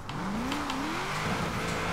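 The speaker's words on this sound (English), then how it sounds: "The car is sliding a little bit more because it's raining" A car drifts and slides on a rain-soaked road in Forza Horizon 4, its engine droning steadily while a tire squeal rises and wavers over a wet hiss.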